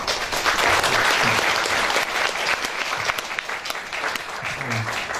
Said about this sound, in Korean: 먼저 우리 조동수 원장님과 한솔 원장님께 큰 박수로 보여주세요.